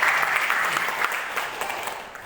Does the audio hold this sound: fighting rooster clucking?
no